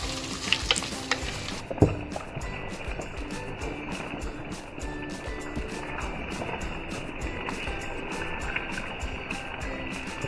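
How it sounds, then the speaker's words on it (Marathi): Finely chopped onions hitting hot oil with bay leaf, cloves and black pepper for dhaba-style chicken masala, sizzling steadily under a few sharp clatters early on, then a constant moderate frying hiss. "आता आहे ना हे कांदे जे बारीक केलेत ना मी ते ह्याच्यामध्ये टाक टाकणार आहे"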